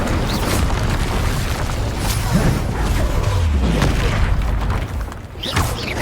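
Incendio fire spell cast in Hogwarts Legacy, a loud roaring, rumbling blast of fire with booming bursts that fills the whole stretch and briefly dips near the end.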